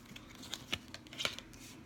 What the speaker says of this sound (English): I'm already shuffling.